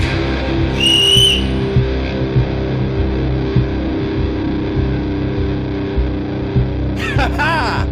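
A short shrill whistle blast cuts in early, then a second warbling whistle near the end, over a constant low droning background.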